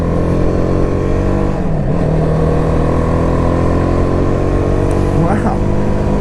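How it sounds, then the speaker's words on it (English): A BMW G310R motorcycle with a full Akrapovic exhaust system rumbles steadily up close, its engine note rising into a couple of brief revs near the end. "I like that exhaust on there."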